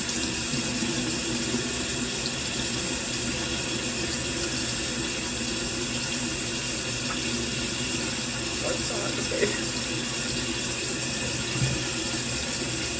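Running tap water pours steadily into a sink during a morning face wash, a continuous hiss with faint splashes and no speech.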